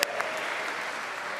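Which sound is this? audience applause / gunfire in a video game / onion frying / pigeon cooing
audience applause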